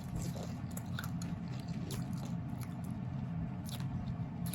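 Someone chews nature cereal mixed with ice, giving close, wet crunches and biting clicks that repeat irregularly over a quiet background, with no talking.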